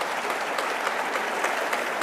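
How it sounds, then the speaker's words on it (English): Audience clapping at a legislative panel, a steady, even patter of many hands filling the room without any voices. "The only people clapping are lobbyists right now"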